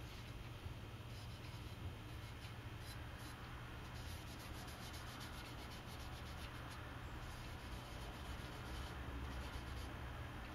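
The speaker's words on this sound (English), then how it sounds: "let's see if it's really easy to apply. Rub it in." Finish being rubbed by hand into the wooden body of a guitar, a faint continuous soft scrubbing friction heard up close and alone, steady throughout.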